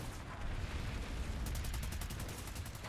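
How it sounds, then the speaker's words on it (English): Rapid gunfire in the online shooter Planetside 2, including shotgun blasts, a steady dense barrage of overlapping shots with a fast rhythmic burst in the second half, fairly quiet and without talk. "fuck off with your shotgun"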